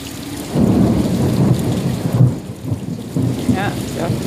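Deep rolling thunder from a lightning storm rumbles loudly over steady rain, building and fading in heavy waves.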